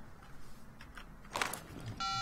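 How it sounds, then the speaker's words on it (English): A phone in the video game Sleeping Dogs starts ringing, a short burst of electronic ring tone arriving after a brief clatter of game noise. "Got a phone call."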